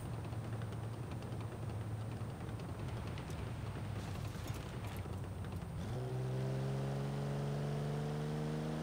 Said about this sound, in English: Just listen to those crackles.